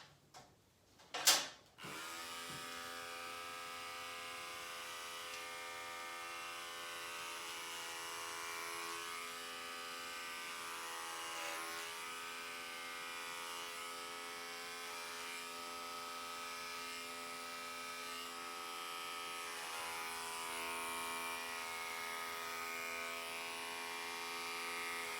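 Electric hair clippers buzz steadily and close up through a basic men's haircut, a continuous motor hum with rich harmonics running almost without a break after a brief knock at the start.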